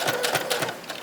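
A sewing machine back stitching while sewing a fabric coaster, short quick bursts of mechanical needle clatter in an even rhythm, close and alone.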